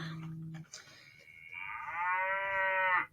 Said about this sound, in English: If you hear a mooing noise, when my husband texts me on the phone, my phone moves